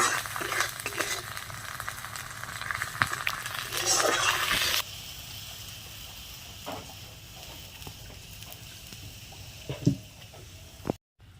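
Chili powder and other spices fry loudly in hot oil for a fish mustard curry until water is poured in. The strong sizzle then drops abruptly to a quieter bubbling, with a few utensil clinks.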